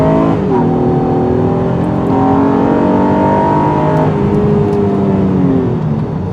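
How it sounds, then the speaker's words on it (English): A 2019 Honda Pilot with a 9-speed automatic accelerates hard in a 0 to 60 run, the engine note climbing steadily in loud, continuous upshifting sweeps heard from inside the cabin. "a couple of 0 to 60 runs and see if this 9-speed automatic can get power to the ground"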